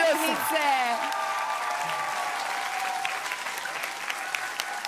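Live audience at the Serbian Eurovision selection final applauding and cheering: a sustained wash of dense clapping from a large crowd, with a host's voice talking over it at the start.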